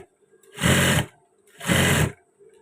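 A sewing machine stitches a waistband in two short, even bursts of rapid whirring. Each burst lasts about half a second, with brief quiet pauses before, between and after.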